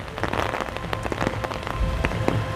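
Steady rain patters on hard surfaces outdoors at Epcot in Walt Disney World, dense close drops and splashes over a continuous wash with no talking.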